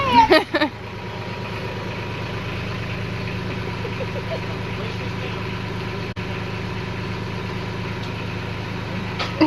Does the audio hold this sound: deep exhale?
no